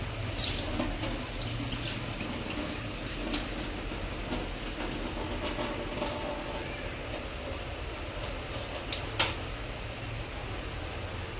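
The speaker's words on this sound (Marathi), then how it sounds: "अशा पद्धतीची आपल्याला डाळ धुवून घ्यायची" Water swishes and trickles steadily in a container as lentils are washed, with a couple of small clinks near the end.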